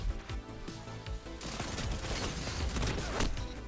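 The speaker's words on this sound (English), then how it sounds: "Okay, we're switching to a shotgun right now." Shotgun fire in the Destiny 2 PvP match rings out as dense, overlapping blasts with a busy clatter of in-game effects, loud and continuous through the whole stretch.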